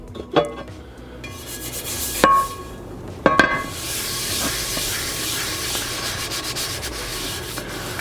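A pan is scrubbed with a soapy scrubber in a few short, sharp scraping strokes, followed by a steady close rubbing and hissing scrub that continues to the end.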